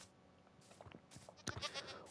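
Goats bleating in Minecraft, a few short game-animal calls arriving in a loose cluster around the middle of the clip, moderately close over a faint background.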